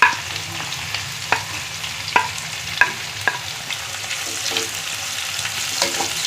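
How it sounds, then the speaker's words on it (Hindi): Oil fries onions with a steady, close sizzle, broken by sharp crackles and occasional clicks of stirring. "इसके बाद हम ये प्याज डालेंगे और इसको सुनहरा करेंगे।"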